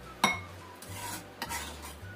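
A utensil mixes finely chopped spring onion into chicken for a pangsit soup filling, giving a few sharp clinks against the bowl, the loudest near the start and another midway, over a low, soft scraping stir, close and alone with no talk.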